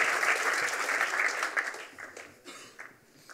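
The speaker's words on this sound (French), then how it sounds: "félicitations, on peut vraiment les applaudir." Audience applause at an e-health trophy awards ceremony, a steady burst of clapping from a crowd that gradually thins and fades over a few seconds.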